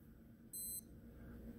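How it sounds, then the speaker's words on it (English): A Citizen Promaster Sailhawk 200m solar quartz diver watch gives one short, high electronic confirmation beep as its crown is pushed in, steady and clear over a low room hum. "Now when I push in the crown, you're going to hear a confirmation beep."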